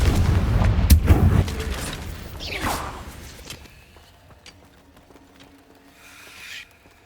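A Confringo fire spell blast in the Hogwarts Legacy video game: a loud burst with sharp cracks and whooshing, a rising swish in the middle, then dying into fainter rumbling debris and scattered small impacts.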